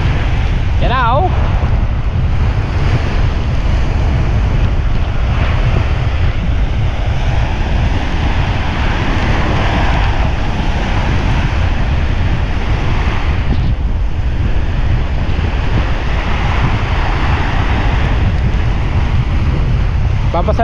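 Storm wind and waves at sea during a typhoon, a constant loud roar of surf and gusting wind buffeting the microphone, steady and close throughout with no clear speech.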